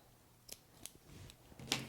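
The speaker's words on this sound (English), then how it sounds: "I take my scissors and I can cut that short" Scissors snip through yarn ends on a hand-knitted woman's sweater, several quiet separate cuts with the last one loudest, close and with no talk.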